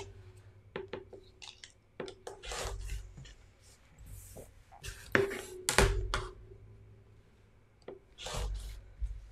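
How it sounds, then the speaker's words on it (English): Scissors snip through the sewn seams at the ends of placemat fabric, a handful of quiet separate cuts and rustles of cloth spread over several seconds in a quiet room. "So I'm going to cut the seams off the ends."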